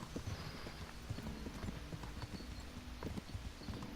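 Faint, steady clip-clopping of horse hooves in a brisk rhythm against a quiet background, in the video game Kingdom Come: Deliverance.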